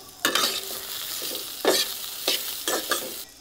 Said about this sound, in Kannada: ಹಾಗೆಯೇ ಗರಗರ ಸೌಂಡ್ ಕೂಡ ಆಗ್ತಾಯಿದೆ ನೋಡಿ